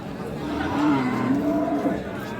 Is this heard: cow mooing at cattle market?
yes